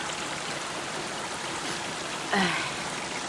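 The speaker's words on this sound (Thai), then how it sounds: "มาดูน้ำตกกันดีกว่า" Steady broadband rush of flowing water, like a stream or waterfall, continuous throughout with a brief louder splash near the end.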